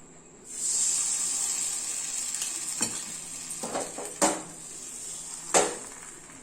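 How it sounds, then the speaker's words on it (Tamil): Appam batter poured into a hot appam pan and swirled, a steady close sizzling hiss with a few soft scrapes and clinks of the pan, no talking. "இந்த ஆப்ப கடாயில் இப்போ நம்ம ஆப்பம் ஊற்றிக்கலாம்"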